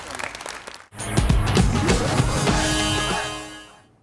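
Audience applause breaks out at a public speech, rising suddenly into a loud, sustained wash of clapping for about two and a half seconds before fading away, with a brief stretch of speech before it.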